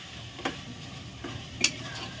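Spoon scrapes and stirs minced mutton in a pot with a soft background sizzle of frying meat, a few distinct clinks standing out.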